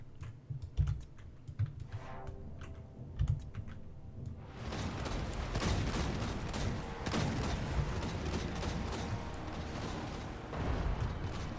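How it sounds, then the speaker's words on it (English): Suppressing gunfire pours down from a hilltop in a video game battle against the Tomb Kings. Sparse sharp cracks and keyboard-like clicks give way to a dense, continuous roar of massed volleys that sounds somewhat distant. "I love the suppressing fire from on top of that hill."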